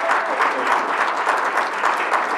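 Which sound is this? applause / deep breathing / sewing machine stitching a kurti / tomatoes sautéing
applause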